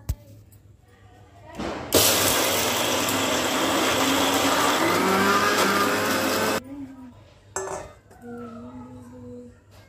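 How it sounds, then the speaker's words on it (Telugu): Kitchen mixer grinder blitzing green chillies and ginger pieces: a sudden loud whirring roar held steady for about five seconds, then a stop and a brief second burst, with faint talk before and after. "సరిపడా పచ్చిమిర్చి అలానే అల్లం ముక్కలు 2 వేసేసి ఫస్ట్ వేసిన ట్రిప్ మాత్రం మెత్తగా అంటే బాగా మెత్తగానే గ్రైండ్ చేసేసుకుంటాను"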